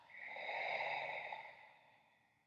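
A slow, breathy exhale during a morning breathing exercise, soft and close, swelling and then fading gently over a couple of seconds with no talking.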